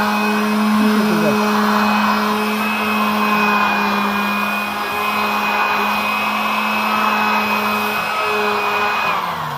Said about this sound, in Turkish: ya da motorlu zımparanız varsa